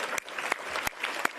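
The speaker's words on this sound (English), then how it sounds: "Go ahead, let's clap for them." Audience applause at a Braille Challenge award ceremony: a steady wash of many hands clapping, moderately loud, with a few sharper claps standing out and no talk over it.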